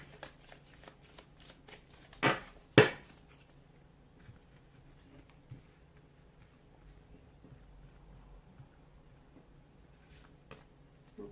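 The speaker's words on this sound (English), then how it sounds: "give the cards a soft shuffle" Two quick riffling shuffles of tarot cards close by, followed by soft handling sounds and faint rustles in a quiet room.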